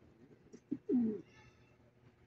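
Racing pigeons arriving at the loft give a few soft coos, one fuller rolling coo standing out, over quiet background with faint rustling and no talk.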